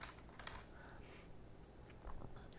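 Quiet, rapid keystrokes patter on a computer keyboard while entering a part name in KiCad, an irregular run of soft clicks with a slightly heavier burst near the end.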